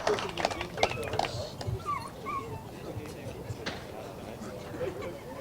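A dog yips and whimpers in short high bursts amid a noisy crowd and a commentator's voice at a British kart championship race.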